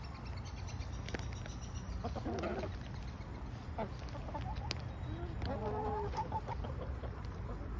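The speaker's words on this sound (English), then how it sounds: "Happy little chickens." A flock of chickens cluck softly at close range, with scattered short calls and murmurs over a low background rumble.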